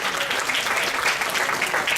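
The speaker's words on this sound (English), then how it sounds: "a big round of applause again" Anime convention masquerade audience clapping for a cosplay performer, a dense, loud, even wash of many hands applauding steadily throughout.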